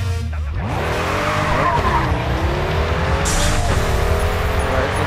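A Pagani Huayra or Zenvo ST1 in a racing video game accelerating flat out, its engine note climbing steadily with tire squeal, loud and continuous, gear shifts breaking the rising pitch.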